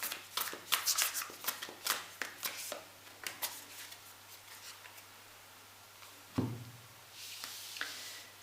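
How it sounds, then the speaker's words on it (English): Tarot cards are shuffled by hand in quick, crisp riffling bursts close by, followed by a pause, a soft thump and a few lighter card sounds. "as I was shuffling the cards."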